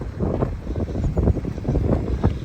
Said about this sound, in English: trying to not fall over or get lifted up by the wind